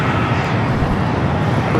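A converted Boeing 747-400 cargo plane landing at LAX, a loud, steady broadband engine roar up close with no voices.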